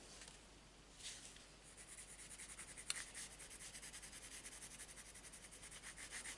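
Soft, steady rubbing of a coloured pencil shading across a colouring-book page, a close continuous scratchy hiss with a small tap partway through and no voices.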